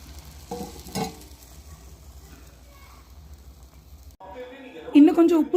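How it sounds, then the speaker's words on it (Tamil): Tamarind water poured into a pan of chili frying in oil for a Pacha Sundakkai Kuzhambu, giving a burst of loud, close sizzling and bubbling near the end after quieter stirring and frying. "இப்போ இந்த மிளகா வாசனை போனதுக்கப்புறம் புளி கரைச்சி வச்சுருக்கதை இதில் சேர்த்துக்கிறேன்."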